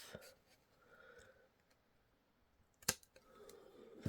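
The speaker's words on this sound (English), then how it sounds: "I'm just going to trim off." Scissors snip once while trimming craft material during a Christmas crafting session, a single sharp cut standing out from a quiet room with faint handling noises before and after.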